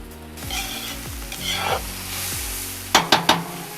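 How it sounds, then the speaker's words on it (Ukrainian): Onions frying in a pot for a lamb and tomato stew, a continuous sizzle punctuated by repeated scraping stirs and a few sharp knocks of the utensil near the end. "смажимо цибулю"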